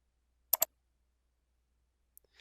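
A double mouse click on a software turn-off button for a shareable link, two crisp quick clicks close together, followed by a faint tick and light rustle, otherwise quiet.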